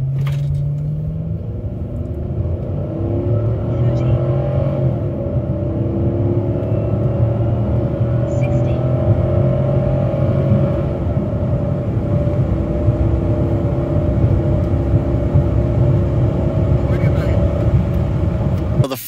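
A Chrysler 300C with a 5.7L HEMI V8 running on E85 fuel during acceleration test runs, a loud, sustained engine roar heard from inside the car that builds and holds for the whole stretch.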